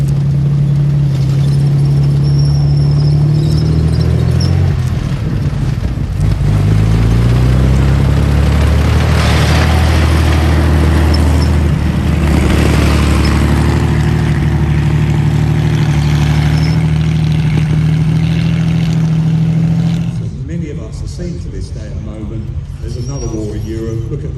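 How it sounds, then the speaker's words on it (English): A vintage military vehicle's engine runs loud and close, a deep steady drone with a strong low hum that dips and shifts in pitch partway through, then eases slightly near the end, with someone talking over it throughout. "listen to that, listen to that lovely engine"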